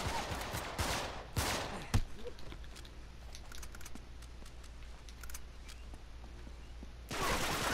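Enemy gunfire rings out in Uncharted, with dense bursts of shots near the start and again at the end and quieter scattered cracks in between.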